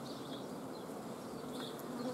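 Honeybees crowded on a light, honeyless hive frame give a steady, continuous buzzing drone close by, with no talking.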